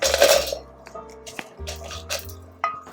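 Roasted cashews and dried chillies are tipped into a mixer jar, giving a few brief clattering knocks and rattles against the jar at close range.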